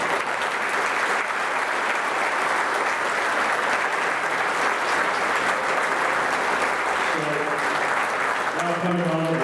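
Sustained applause from the audience at the St. Louis Sports Hall of Fame fall enshrinement dinner, a loud, steady wash of clapping in a large room, with a voice talking over it near the end.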